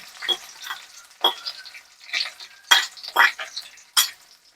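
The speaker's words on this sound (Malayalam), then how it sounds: "ഇത് കുറച്ച് നമുക്ക് അങ്ങനെ ഫ്രൈ ചെയ്യണം" Green chillies and curry leaves frying in a pan, sizzling softly while being stirred in several short scraping bursts with quiet gaps between them.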